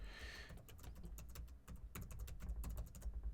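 Quick, uneven keystrokes tap on a computer keyboard close up, a steady patter of short clicks over a faint low hum.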